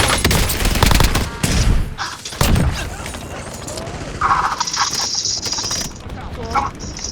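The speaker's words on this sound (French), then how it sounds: "On me tire dessus." Gunfire in Call of Duty: Warzone crackles in dense bursts early on, then gives way to mechanical clicks and game effects, with quiet voices faintly underneath.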